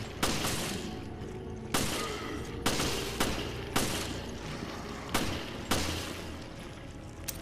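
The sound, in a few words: gunfire in video game Resident Evil Revelations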